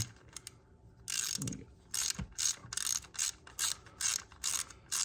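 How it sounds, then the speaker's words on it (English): Ratchet seating a coil pack bolt on a 2016 Toyota Camry: a few slow clicks, then a run of about eight quick ratcheting bursts in a steady rhythm, close and crisp, with no talking. "Start it by hand and then just seat it with the ratchet."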